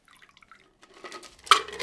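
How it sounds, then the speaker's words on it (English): A classic daiquiri cocktail is strained into a coupe glass: a few faint drips and tinkles first, then a close, brief splash as the liquid pours through the strainer. "So now we are going to go ahead and strain this into our coupe."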